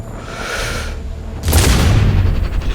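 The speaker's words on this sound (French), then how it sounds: "Suppressing with mortar fire." Mortar fire in the video game Sniper Ghost Warrior lands as a loud booming explosion midway, following a stretch of rumbling ambience, with the blast's low roar trailing off afterward.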